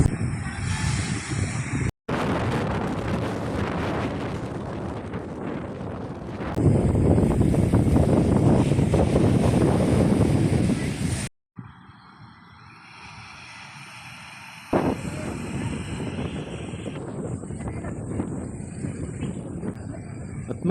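Strong wind gusting across the microphone at a beach, heavy roaring buffets with abrupt cuts between segments and surf-like noise underneath, loud and continuous with no talk.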